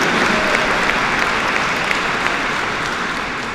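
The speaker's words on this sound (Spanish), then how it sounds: "Eso es aplauso a Aparecida" Sustained audience applause at a Eucharistic congress in Chimbote, Peru, dense and steady throughout with no speech over it.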